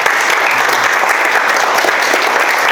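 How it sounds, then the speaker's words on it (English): A crowd gives a sustained, loud round of applause in honour of a man at a speech event, dense steady clapping filling the whole stretch without any talking. "Give him a round of applause."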